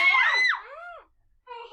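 Children scream loudly at the end of a sung nursery rhyme during an online circle-time session, a sharp burst that trails off, then a short pause and a softer follow-up voice.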